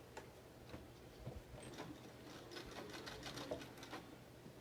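Quietly, a sewing machine ticks along a fabric mask seam with a steady, rapid mechanical clicking rhythm, faint and continuous, with no one speaking.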